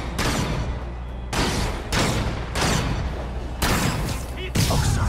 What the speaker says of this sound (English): Snipers are opening up on the convoy.